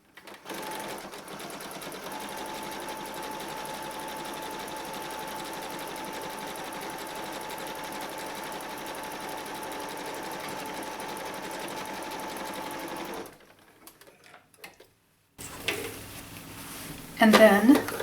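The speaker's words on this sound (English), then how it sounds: "So let's heel both of those edges with just a zigzag stitch." A sewing machine runs a zigzag stitch along denim edges for a jeans purse, a steady continuous whir for about thirteen seconds before stopping, followed by brief rustling and handling noises.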